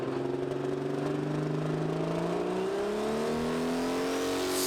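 A tractor-pulling machine called Ice Bear, at the 2019 BTPA and STPC finals, revs hard while dragging a sledge. Its loud, close engine note climbs steadily in pitch with no voices.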